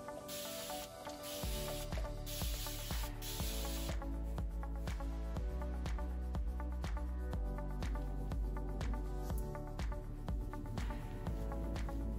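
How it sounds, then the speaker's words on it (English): Hairspray is sprayed over curly type 3c hair in a few quick hissing bursts near the start. After that, steady background music plays, with no talking. "then I'll go over my hair with hairspray"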